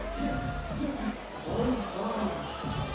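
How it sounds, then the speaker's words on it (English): A crowd buzzes and cheers at a FIBA 3x3 World Tour basketball final in Macau, a steady loud roar of voices and whoops under a commentator's speech. "The crowd is still buzzing right now"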